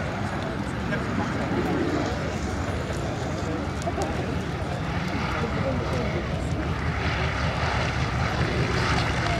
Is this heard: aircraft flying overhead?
yes